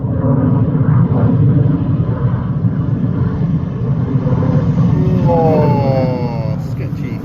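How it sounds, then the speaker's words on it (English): A Beechcraft Bonanza light aircraft arriving to land, heard as a loud, continuous engine drone with heavy low rumble and a Doppler-shifting tone sliding downward as it passes close near the end. "here he comes, Captain Wills in his Bonanza"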